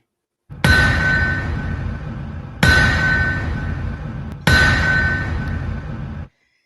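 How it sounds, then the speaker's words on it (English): Three loud metallic ringing anvil strikes, evenly spaced about two seconds apart, each sustaining a bright clang before cutting off. "that is the sound of the anvil."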